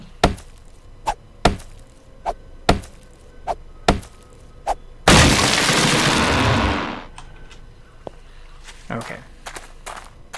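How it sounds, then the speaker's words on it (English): Axe blows on a tree in the 7 Days To Die survival game, eight or so sharp rhythmic chops followed by a loud two-second crashing roar as the tree falls, then scattered fainter knocks. "So, yeah, I'm cutting a tree down."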